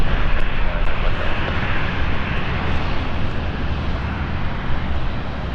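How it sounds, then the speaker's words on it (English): KLM Cityhopper airliner at London City Airport, its engines giving a steady, broad roar throughout, moderately loud and unbroken. "in the distance is KLM City Hopper flight. That's going to be moving out very soon."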